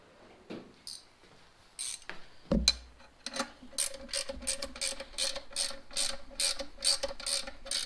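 A ratchet wrench clicks in quick, regular bursts of pawl ticks while working on a 1942 Farmall H tractor during differential and topshaft installation. The clicking is close and crisp and follows a louder metallic clunk of the wrench being picked up.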